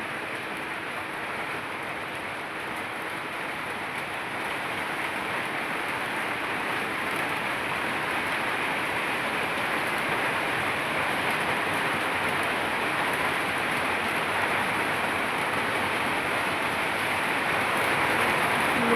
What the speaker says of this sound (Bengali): খুব জোরে নামতেছে বৃষ্টি।